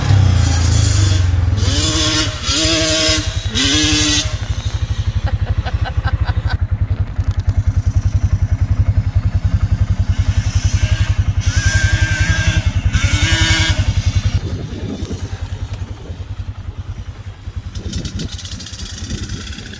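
A 500cc two-stroke dirt bike rides past on a track, a loud close engine roar with rising and falling revs and a steady rattling drone, with no talk.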